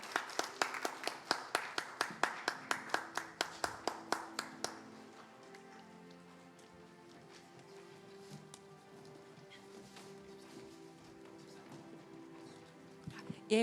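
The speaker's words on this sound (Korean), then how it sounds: "다시 한번 축하의 박수 부탁드립니다" At a Korean Sunday church worship service, the congregation claps in a brisk, regular rhythm for several seconds before the claps thin out under soft sustained instrumental tones.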